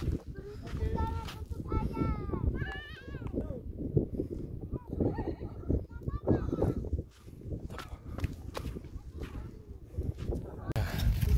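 Horse at Mount Bromo with hooves clip-clopping on sandy ground and a short neigh, heard under steady chatter from people nearby in a busy outdoor setting.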